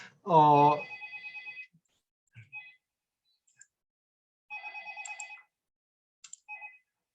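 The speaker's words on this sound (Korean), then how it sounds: "중간에 전화가 와가지고요" A telephone rings during an online economics lecture, its electronic trilling tones repeating in short bursts after a brief spoken word, then pausing and ringing again, clear and fairly close in an otherwise quiet room.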